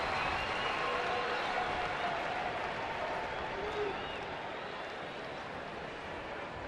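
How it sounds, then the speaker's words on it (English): A big baseball crowd at Chase Field cheers and applauds the first-place Arizona Diamondbacks during a game against the Milwaukee Brewers, a dense, distant wash of clapping and roar that eases slightly partway through, with an announcer speaking over it. "Great crowd here tonight at Chase to cheer on their first place Diamondbacks"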